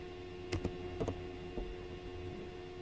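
Several sparse keystrokes tap on a computer keyboard in a quiet room: a couple of pairs of clicks and then a lone press, close and soft over a steady background hum.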